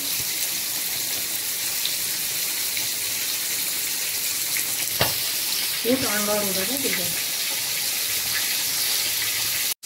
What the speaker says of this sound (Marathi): आणि आता हे मस्त असे कुरकुरीत भाजून घ्यायचे, फ्राय करून घ्यायचे मस्त.